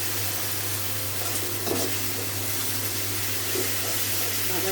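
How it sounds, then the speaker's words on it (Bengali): Spices, garlic and onion frying in a pan for a pabda fish curry, heard as a steady hiss of sizzling with a low hum and a few faint stirring knocks. "রসুন দিয়ে একটু মশলাটা ভাজা ভাজা করবো সবসময়"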